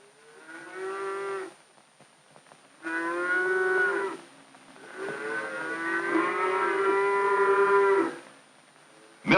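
Dairy cows on a 1940s farm are brought from the corrals to the milking barns, lowing in three long, loud moos, the last one drawn out longest, with short pauses between.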